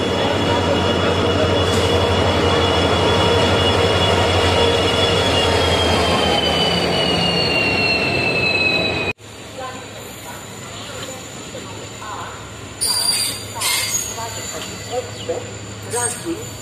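The Farakka Express rolls into an Indian station with a loud, sustained grinding roar and high-pitched wheel squeal, then a quieter stretch of rumbling and clatter close by.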